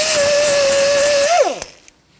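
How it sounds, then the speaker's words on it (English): A power drill bores out the rear ABS wheel speed sensor hole on a 2006-2014 Honda Ridgeline, a loud steady whine that holds for over a second, then winds down in pitch and fades out. "Then we're going to drill that out and clean it up to accept the new sensor."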